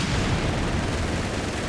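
Dense, continuous rumble of shelling from a Company of Heroes 3 artillery barrage, steady and loud throughout with no distinct individual blasts standing out.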